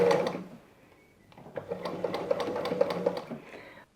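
A sewing machine stitches a seam through old denim jeans, starting after a short pause and running in a steady mechanical whir with rhythmic needle clatter, close by.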